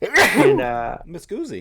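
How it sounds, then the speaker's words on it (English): A person sneezes sharply once at the start during a podcast conversation, and talking follows right after. "I know this is an audio format, but I'm just gonna sneeze"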